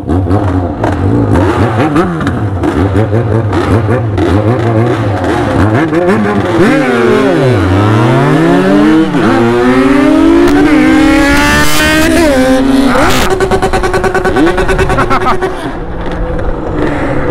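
A two-stroke Honda Titan and a Yamaha XJ6 motorcycle racing, engines revving hard with rising and falling pitch sweeps through gear changes, loud and close throughout, with someone talking over the engine noise.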